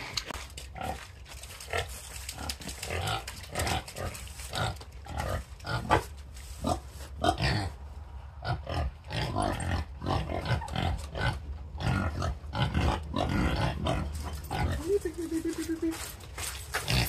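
Several pigs grunting and oinking in a muddy pen, with a steady run of close, overlapping snorts and grunts and a person talking over parts of it.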